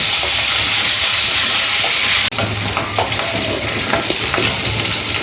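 Spring onions frying with tangra fish hiss in a loud, steady sizzle, then the noise drops briefly and resumes with scraping stirs and crackles over the frying.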